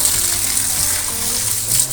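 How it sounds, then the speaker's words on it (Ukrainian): Steady, loud gushing water pours and splashes continuously over piglets, close by, with no voices over it. "Поливаємо поросят."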